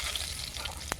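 Dried red chillies frying in hot oil for a Bengali vegetable ghyat, a steady close sizzle and crackle with a brief sharp pop near the end.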